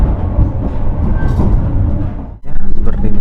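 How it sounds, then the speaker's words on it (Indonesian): A passenger train, the KA Malabar from Malang to Bandung, runs at night with a loud, continuous rumbling roar of the carriage on the rails, briefly dipping before resuming with rhythmic clatter. "seperti inilah teman-teman perjalanan malam naik kereta api ya"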